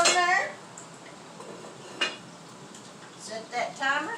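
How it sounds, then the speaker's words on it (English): A lid is set onto a cooking pot on the stove with one short metallic clink midway, surrounded by quiet kitchen clatter, with a voice talking before and after. "now we're going to put the lid on there"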